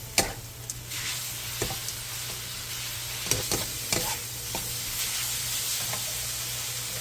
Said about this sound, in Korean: 물 3스푼, 소주 1스푼, 진간장 1스푼을 넣고 중불에서 2분 정도 볶아주세요